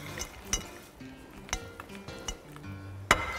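A utensil stirs a sweet potato and quinoa salad in a dish, making a series of light, irregular clinks and taps against the dish, close and fairly quiet, with no talking.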